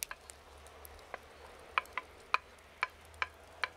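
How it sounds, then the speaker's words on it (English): Onions cooking with pork knuckle in a pot, a soft steady sizzle with occasional light clicking taps from stirring, close and quiet. "We cook the onions with the pork knuckle, adding the cheese, black pepper and saffron."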